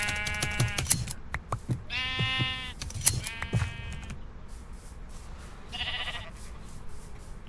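Sheep bleating in the video game Minecraft, several wavering bleats in quick succession up close, then a pause with faint game noise and one more bleat a little later.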